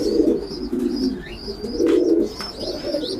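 Pigeons in a loft coo in low, repeated rolling calls, fairly close and continuous, with a few higher chirps mixed in.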